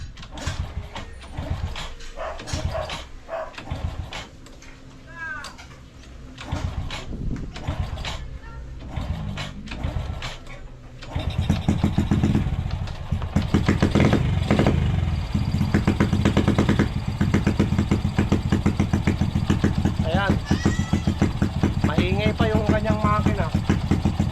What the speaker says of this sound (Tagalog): Palyado yung motor.